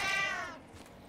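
A single cat meows once in a drawn-out, falling cry that fades into quiet, heard close and clear with no talking over it.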